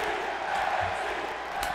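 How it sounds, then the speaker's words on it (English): Arena crowd noise from the wrestling video game WWE 2K23: a dense, continuous roar of cheering spectators, fairly loud and steady throughout. "They're cheering Wesley too. They want Wes"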